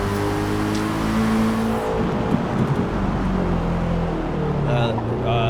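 Race car engine in Forza Motorsport droning steadily under layered harmonics while someone talks over it, with some tyre and track noise late on.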